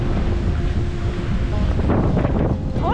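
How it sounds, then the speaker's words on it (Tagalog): Strong wind roars and buffets the microphone continuously, with a low rumbling gust noise and faint water-like wash in the background. "okay lang kasi sobrang lakas naman ng hangin eh."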